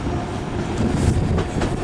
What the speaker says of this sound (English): There are a lot of trains around.